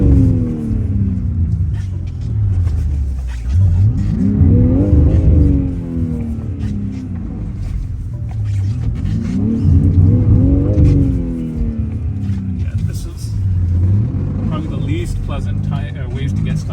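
A 2021-onward G80 BMW M3 with rear-wheel drive, stuck in snow during a winter storm in Canada, revs repeatedly. Its engine swells and falls in three loud surges over a constant low rumble.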